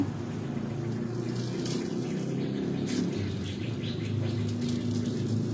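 Tap water runs steadily into a sink while a kaffir lime and ginger shampoo is rinsed out of hair, a continuous close splashing stream with faint bird chirps in the background.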